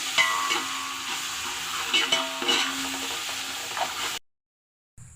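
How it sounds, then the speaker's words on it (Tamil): Ginger garlic paste and turmeric fry over browned onions in a pan, a loud steady sizzle broken by the scrape of a spoon stirring, before a sudden cut to silence and a brief return of sizzle. "நல்லா கிளறிக்கோங்க."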